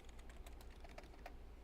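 Typing on a computer keyboard, soft rapid key clicks under a steady low hum, faint and close.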